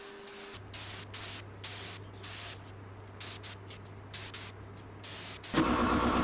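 Spray gun applying hammertone paint, a series of short hissing bursts at an even rhythm over a low steady hum, then a louder continuous spray at the end.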